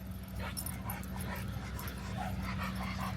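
A dog at a dog park whimpers and pants in short bursts over a constant low hum and background bustle, fairly faint and close.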